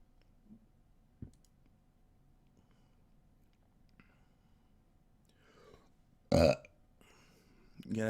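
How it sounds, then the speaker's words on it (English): A single loud, short burp from a person recording a live stream audiobook audition, close to the microphone in an otherwise quiet room with faint clicks and rustles before it. "You gotta have at least one good burp in when you're recording."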